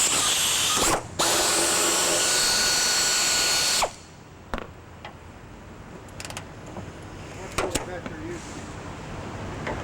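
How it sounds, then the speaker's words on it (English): A quarter-inch air ratchet turning a 12 mm socket gives a loud continuous pneumatic buzz for a few seconds, then stops, followed by quieter clinks and shop rustling. "Quarter-inch air ratchet, 12 millimeter."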